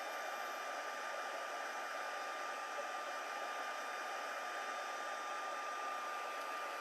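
Heat tool drying embossed watercolor cardstock, a loud, steady blower whoosh that runs unbroken from start to finish at close range, with no talking.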